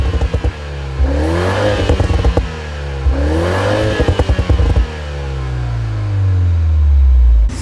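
A tuned Toyota GR Supra, a 300-horsepower car on Bridgestone Potenza tyres, revs hard at Tsukuba circuit, its engine climbing in two loud rising sweeps with clattering overtones, then settling into a lower, steadier drone.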